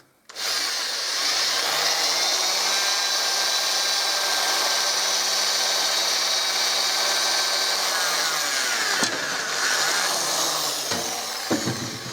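A small electric drill with a thin bit whines steadily at high speed for several seconds, its pitch dipping briefly as the bit bites, then a short second burst, drilling a fishing reel handle.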